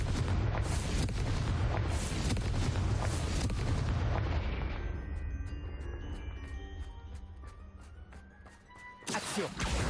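Confringo blasting spell in Hogwarts Legacy on Switch, bursting in a long loud rumbling series of explosions that fades into ringing game tones before another blast at the end.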